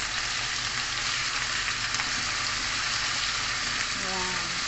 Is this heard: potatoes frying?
yes